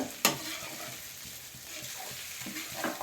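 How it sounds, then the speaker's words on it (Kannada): Mutton fries with onions in a pan for a pepper dry dish, giving a soft, steady sizzle with repeated scraping stirs and an occasional sharper clink of the spoon. "ಮಟನನ್ನು ಆ ನೀರುಳ್ಳಿ ದೊಟ್ಟಗೂ ಫ್ರೈ ಮಾಡ್ಬೋದು"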